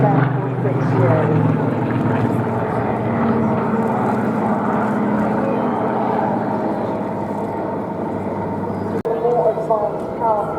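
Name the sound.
OV-10 Bronco aircraft flying at an airshow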